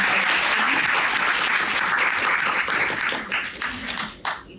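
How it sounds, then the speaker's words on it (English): Sustained applause from a large audience at a university speech fills the space steadily, then thins out with a few scattered claps near the end. "can we give him a big round of applause?"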